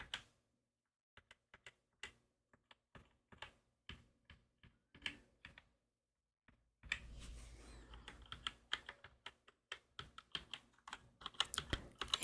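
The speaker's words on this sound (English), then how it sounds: "Maybe I'll type very softly." Soft typing on a Roccat Vulcan 121 keyboard: quiet, sparse key taps at first, then a denser, quicker run of clicks with a faint background hiss, close and alone.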